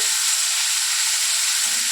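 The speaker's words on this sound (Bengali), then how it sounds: "এখন ভালো করে লতিটা ভেজে নিই।" Taro stolons fry in oil in a pan while being stirred, giving a steady, close hiss with faint scraping near the end.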